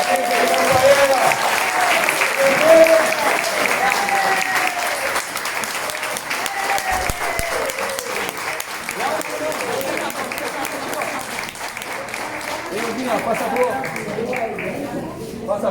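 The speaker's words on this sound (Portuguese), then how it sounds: "Gente, eu queria pedir uma salva de palmas da minha amiga." A book launch audience applauds steadily for about fifteen seconds, a full, even roar of clapping with a few voices mixed in.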